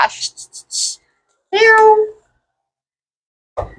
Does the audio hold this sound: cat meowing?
yes